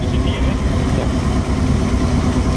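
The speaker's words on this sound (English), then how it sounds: "Now it's just idling." Idling V8 of a 1964 Oldsmobile Starfire, a steady low rumble heard up close with slight rhythmic pulsing and no talk over it.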